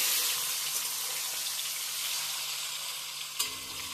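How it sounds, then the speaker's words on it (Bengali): Pieces of katla fish fry in hot oil over a high flame, giving a steady, close sizzling hiss with no talking and one brief clink near the end. "এবার ফ্লেমটাকে হাই করে আমি মাছগুলো ভেজে নেব।"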